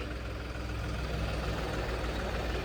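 A tractor engine idles at a weighbridge with a low, steady rumble that stays faint and even throughout, with no voices over it.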